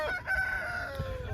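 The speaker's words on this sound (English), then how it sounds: "We have a flock of heritage breed hens out here in the field" Heritage breed hens in an open farm field give a short, close, tonal fowl call that rises over steady outdoor background noise, with no talking.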